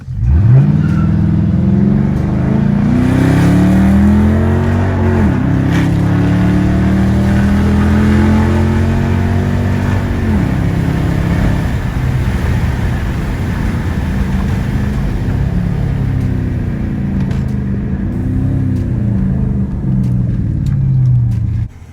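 A 2013 Dodge Charger R/T in sport mode pulls hard, its V8 revs climbing through two or three gears with clear shift drops, loud and close with no talk.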